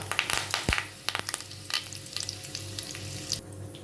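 Curry leaves crackle and sizzle in hot oil in a wok, sharp pops and spits scattered over a steady frying hiss, close and fairly loud.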